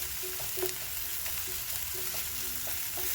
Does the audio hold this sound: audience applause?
no